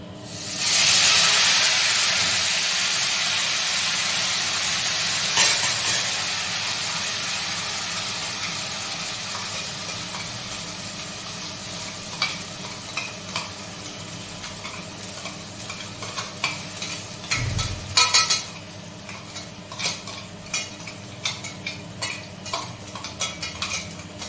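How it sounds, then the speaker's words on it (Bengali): Spice paste sizzles loudly in hot oil for a Bengali potato curry, a bright steady hiss that eases slightly over time, with scraping stirs and occasional utensil clinks, no voices. "এবারে আমি ছেড়ে দেবো আমার এই পেস্ট করে রাখা মশলাটা। তা এটাকে আস্তে ছাড়তে হবে, কারণ তাহলে তেল ছিটবে।"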